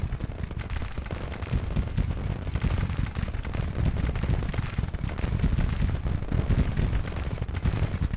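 Massed musket volleys from Civil War infantry in Grand Tactician: The Civil War crackle continuously, a dense rolling clatter of many overlapping shots at moderate distance with no pauses.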